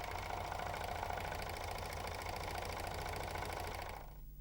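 A Janome 6234XL overlocker running slowly to form a thread chain gives a steady mechanical whir with a fast stitching rhythm. It sounds close and even, then stops abruptly near the end.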